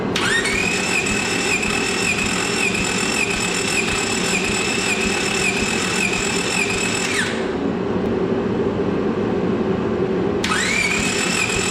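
A Honda Civic engine cranks at full throttle during a compression test. The starter whines in a steady, loud, even rhythm for several seconds, pauses briefly, then starts cranking again.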